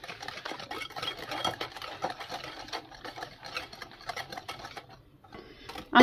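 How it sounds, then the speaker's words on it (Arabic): Cake batter whisked by hand in a bowl makes a rapid, steady run of close clicking and scraping strokes that pauses briefly near the end, with no one talking. "احنا هنا هنضربهم على ايدينا"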